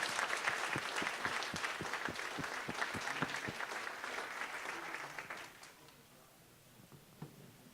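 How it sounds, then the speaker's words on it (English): A banquet-hall audience at a city employee and volunteer recognition dinner gives a warm round of applause for honored staff; the crisp, steady clapping runs for about five seconds, then tapers off into near quiet. "Please join me in giving them a warm round of applause."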